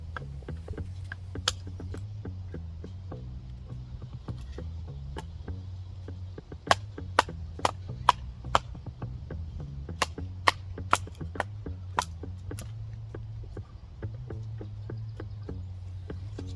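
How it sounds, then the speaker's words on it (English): Sharp hatchet chops split wood at a campsite in Duluth, Minnesota, a long series of crisp, irregular knocks that cluster mid-clip, over a steady low outdoor rumble. "if you're just learning how to cut wood, please don't follow my example"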